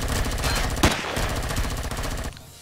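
Rapid automatic gunfire in the space survival game Empyrion Galactic Survival: a dense, fast stream of shots with one sharper crack partway through, then a brief cutoff near the end.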